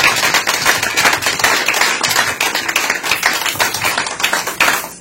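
A church congregation clapping together during a pastor's recognition service, loud, dense, continuous applause in a reverberant hall.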